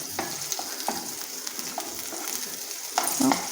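Ingredients for sambar are sautéed in a pan: a soft continuous sizzle with light scraping stirs and small spatula knocks, close and fairly quiet.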